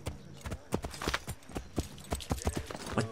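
Rapid clip-clop of horse hooves in the video game Assassin's Creed 3 at a steady galloping rhythm, crisp and close, with no voices.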